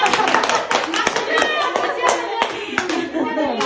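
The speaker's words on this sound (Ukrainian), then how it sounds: "Дівчатка, бурні аплодисменти!" A women's audience at a gathering in Lviv bursts into lively applause, dense overlapping claps filling the whole stretch with sharp individual hand slaps standing out, while voices murmur and call out underneath.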